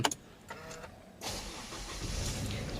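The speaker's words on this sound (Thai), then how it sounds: "เดี๋ยวเราสตาร์ทเครื่องให้ฟังนะครับ" A couple of faint clicks and a brief whir as the push-start button is pressed, then the 1.9-litre engine of a 2018 Isuzu D-Max pickup catches and settles into a steady, quiet idle.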